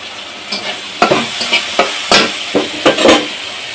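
Sautéing in a pan with prawns, before the colocasia greens go in: a close, loud sizzle of hot oil broken by sharp, repeated spatula scrapes and knocks against the pan, with no talk.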